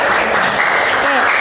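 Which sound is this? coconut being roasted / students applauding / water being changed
students applauding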